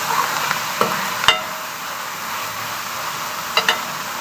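Tomatoes with potatoes and peas frying in a pan, a steady broadband sizzle with a few sharp clicks of a spoon stirring and scraping, close and alone.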